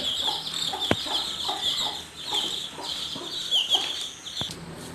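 A turkey hen kept on a backyard poultry farm gives repeated short clucking calls close by, with a few sharp clicks and a steady high chirping of other birds in the background.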